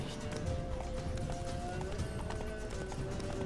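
A horse's hooves clop in the video game The Witcher 3: Blood and Wine, with quick beats half-buried under a dense, loud wash of ambient noise and faint tonal game sounds.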